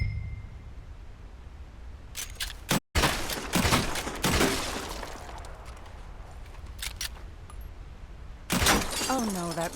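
Gunshots from the video game Red Dead Redemption II ring out as a few sharp cracks spaced seconds apart, with a steady background hum and voices talking between the shots.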